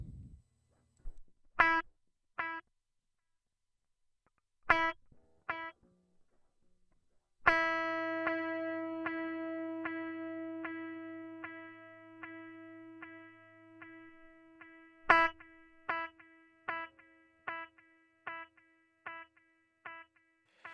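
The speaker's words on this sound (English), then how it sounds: "Hear my guitar with delay, with feedback set very low and then very high." Electric guitar through a delay effect: sparse plucked notes with only a few quiet echoes at low feedback, then a sustained chord and picked notes trailing long chains of fading repeats at high feedback, clean and fairly quiet.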